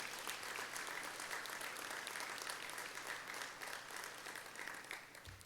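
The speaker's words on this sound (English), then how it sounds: "And I think that deserves a huge applause." Graduates and guests at a college convocation applaud a student associations' gift, a full, continuous clapping from a large seated crowd that stays strong before thinning out in the final moment.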